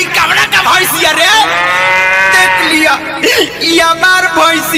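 A buffalo gives a long, loud, close moo with a drawn-out rising and falling tone, surrounded by shorter vocal sounds and voices singing or talking.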